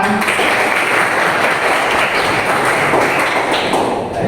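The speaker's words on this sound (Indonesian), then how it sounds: "terima kasih tepuk tangan" Classroom applause during a lesson: dense, continuous clapping from many hands that stays loud and steady for several seconds and tapers off slightly at the end.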